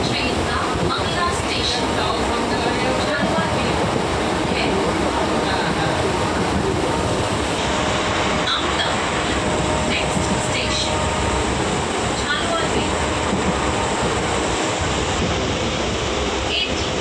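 Train running near Jhaluarber station in Howrah, a continuous loud rumble and rushing noise of rolling wheels and carriages that holds steady throughout with occasional clanks.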